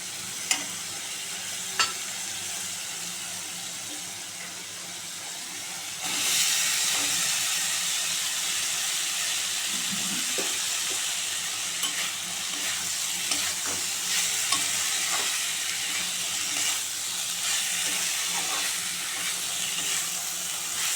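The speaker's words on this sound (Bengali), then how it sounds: "ভালো করে লতিটা নেড়ে চেড়ে দেবো ভালো করে।" Taro stolons fry in spice paste and are stirred, a continuous hissing sizzle that grows louder partway through, with occasional soft scrapes and taps of the spoon against the pan, close by and free of speech.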